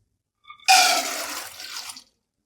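Water pours steadily into a pot of soaked, swollen chana dal, a bright splashing gush lasting over a second before cutting off cleanly.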